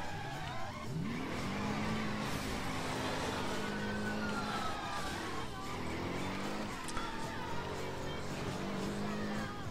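A car engine in the Driver San Francisco video game revs up and down as the gas is feathered during a spin-out, whining pitch sweeps rising and falling over tire noise, with someone talking over it.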